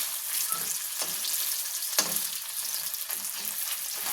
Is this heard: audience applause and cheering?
no